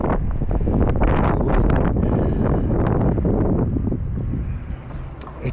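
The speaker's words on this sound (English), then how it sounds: "It's going into a headwind." Strong headwind buffeting the microphone while riding an e-bike, a loud continuous roar and rumble that eases slightly near the end.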